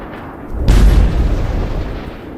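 An M2A2 Bradley fires on approaching Russian APCs: one heavy, booming blast hits suddenly and then rolls off into a long, rumbling decay over a loud background roar.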